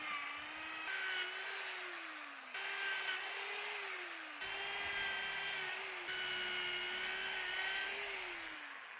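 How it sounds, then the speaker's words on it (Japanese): A handheld electric drill bores a 7 mm hole through a titanium alloy tent peg, whining steadily in a high pitch with several brief pauses and restarts between bursts. "これで穴を開けてみます。"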